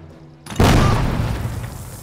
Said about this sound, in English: Maybe we just grenade these two, try to guarantee that kill.